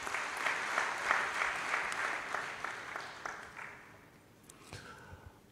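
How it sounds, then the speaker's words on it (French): Audience applause at an election results proclamation ceremony, a dense steady clapping from a large crowd that gradually thins and fades toward the end, with only scattered claps left. "Et je pense que ça s'applaudit également très fort."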